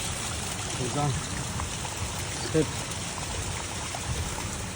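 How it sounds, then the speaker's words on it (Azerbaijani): A mountain spring emerges between the mountains, and its water flows in a steady, moderate rush. Brief speech is heard over the constant wash of the stream. "Baxın, belə bir bulaqdır bura."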